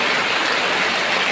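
Heavy rain pours steadily during a typhoon in the Philippines, a dense, continuous hiss of rainfall close by with no other sounds.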